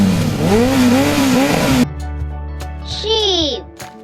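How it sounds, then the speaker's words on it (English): A motorcycle engine revs up and down in several quick, loud, wavering surges, then drops off sharply. A shorter, quieter rev follows after a pause. "Motorcycle."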